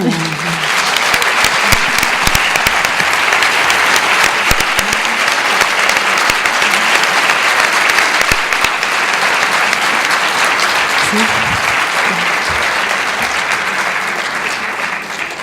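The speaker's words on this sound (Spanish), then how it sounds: "Pido un aplauso para ella." Sustained audience applause fills a hall at a popular religious forum in Vitoria-Gasteiz, a dense, steady clatter of many hands lasting the whole stretch without spoken words.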